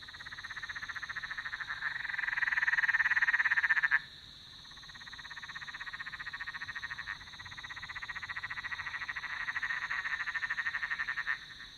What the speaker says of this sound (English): in the distance, you can hear the common brown froglets